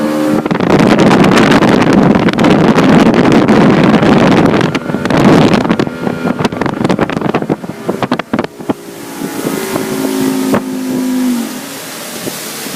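A large outboard motor on a boat roars loudly and steadily with heavy wind buffeting the microphone, easing into a lower drone with a brief rising whine near the end.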